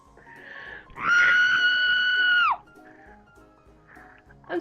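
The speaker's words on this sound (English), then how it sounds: "I had to scream into a Pikachu plushie" A person screams into a Pikachu plushie, letting out a single sustained, muffled high-pitched shriek of about a second and a half, close and loud, with faint breathy noises around it.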